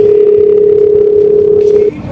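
A phone ringing tone sounds as a loud continuous single-pitch tone for nearly two seconds, then stops abruptly, leaving faint background noise.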